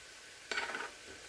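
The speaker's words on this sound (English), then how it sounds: "Add in the beer" Beer poured into a pot of Frito pie casserole filling with taco seasoning and mesquite, giving a brief splashing gush of under half a second that fades quickly, alone.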